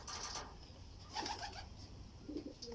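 Racing pigeons coo softly in short bursts, with brief flutters, in a loft with ambient noise underneath.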